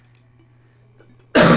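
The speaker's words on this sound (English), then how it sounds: "There's one of those deep breaths and then a cough." Near-silence breaks into a sudden, loud, harsh cough right up close at the very end, with no talk around it.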